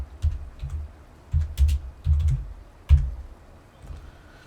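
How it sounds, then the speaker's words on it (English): Typing on a non-mechanical computer keyboard, heard as close, irregular bursts of soft key taps and thumps with short pauses between them, and no talking. "Sorry about the typing."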